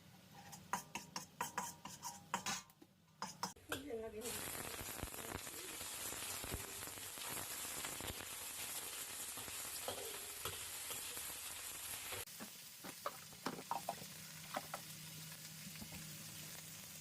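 Small fish frying in oil in a pan for a tomato, potato and carrot soup: steady, close sizzle with stirring scrapes and clatter before and after, no talk.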